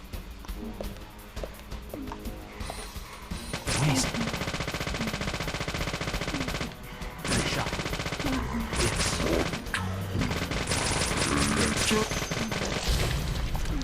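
Rapid bursts of gunfire from the zombie-shooting game Deadly Premonition, dense sustained volleys with heavy booms layered over game music and effects, loud and close throughout.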